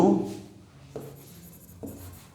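Chalk or marker strokes on a classroom board as a sentence is written during a grammar lesson, three short scratchy bursts with quiet gaps between, fairly close and with no talking.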